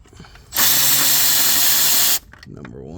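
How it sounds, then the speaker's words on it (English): A power drill spins out a Torx screw on the passenger side of a 2006 Ford Ranger in a single loud, steady whir lasting under two seconds, with quiet shuffling before and after. "Next is going to be these Torx screws on the passenger side."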